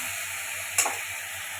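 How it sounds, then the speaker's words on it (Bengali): Tomato frying in a pan for a rohu fish-head mung dal, a steady soft sizzle throughout with a brief louder hiss near the middle, close and alone. "একটু ভেজে নিই টমেটোটা"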